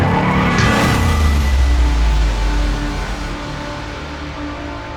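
A 2024 Ford Mustang drifting, with a loud engine roar and tire squeal close by that fades gradually over the last couple of seconds.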